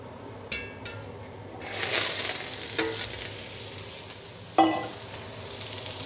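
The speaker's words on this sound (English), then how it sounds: "That nice sizzle, what's happening is the oil is cooking the outside of the asparagus" Dry asparagus stir frying in hot oil, a steady sizzle with bursts of louder crackle and sharp spits as the spears are tossed and stirred in the pan.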